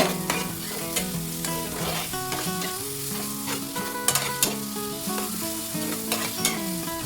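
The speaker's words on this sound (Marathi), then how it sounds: "आपण आता एक उभी चिरलेली शिमला मिरची घालूया" Sliced capsicum frying with softened onions in a pan while being stirred, a steady sizzle running throughout under melodic background music, with a few sharper clinks of the spoon.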